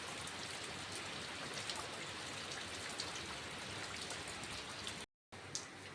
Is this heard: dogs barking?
no